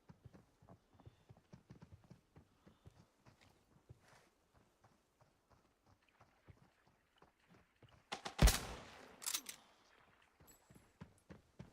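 Quiet, steady footsteps patter in the video game Arena Breakout, then a loud, close burst of gunfire about two-thirds through, followed by a second shot and the footsteps carrying on faintly afterward.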